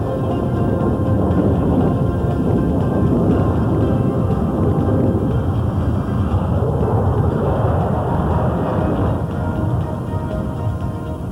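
An F-16 Fighting Falcon fighter jet flying a display at an air show, a continuous loud, broad roar of jet engine noise that holds steady throughout with no talk.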